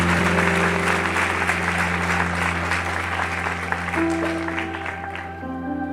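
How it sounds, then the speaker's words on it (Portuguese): Sustained applause from a church congregation, loud and continuous, with sustained musical tones ringing underneath and growing more prominent toward the end. "Aplauda Ele."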